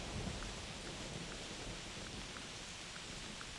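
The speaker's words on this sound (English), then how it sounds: "Thunder in the Hunter Classic." Constant rain hiss fills a thunderstorm scene in the hunting game theHunter Classic, with faint rolls of thunder buried in the steady wash of falling water.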